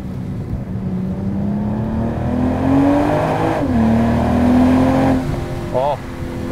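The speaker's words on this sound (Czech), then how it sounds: "O, to má zátah to auto. Šestiválec je sametový, nádherný." BMW M440i G22 inline-six, 275 kW and 500 Nm, accelerating hard with a smooth rising engine note through a gear change, recorded from inside the car with someone talking over it.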